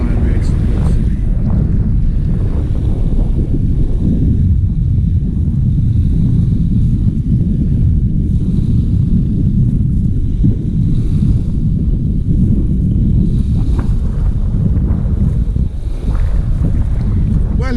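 Strong wind buffets the microphone on the seafront at Southend-on-Sea under an overcast sky, a continuous loud low roar with waves and water close by throughout.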